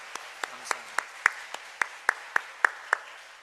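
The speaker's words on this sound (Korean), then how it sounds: "박수로 환영해 주시고" A church congregation claps to welcome visitors, with about a dozen sparse, evenly spaced claps at a slow steady pace, moderately close in a quiet room.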